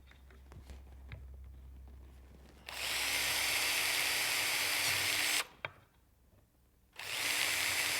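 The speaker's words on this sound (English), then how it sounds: "So let's drill a couple more." A power drill bores holes through an old push pad, running in two loud sustained bursts of about three and two seconds separated by a brief pause, following quieter handling noises.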